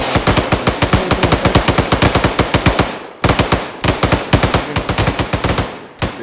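Sustained automatic machine gun fire from the ArmA military video game, loud and close, in rapid even bursts that pause briefly, then resume as a few shorter bursts.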